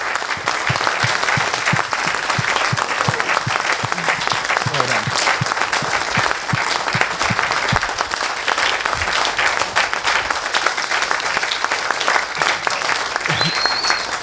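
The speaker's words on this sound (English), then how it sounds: "Round of applause for Bill." An audience at a shooting heroes award presentation gives a round of applause for Bill, steady dense clapping that holds at full strength throughout, with faint voices and crowd noise underneath.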